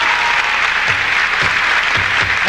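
Concert crowd applauding a salsa singer at a salsa show in Caracas, 1980: a dense, steady roar of clapping from a large audience with a few low thumps, loud and continuous throughout.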